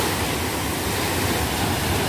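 Ocean surf at a beach resort in Quezon province at higher tide sends up a steady, dense wash of crashing and hissing water, close and continuous, with no voices.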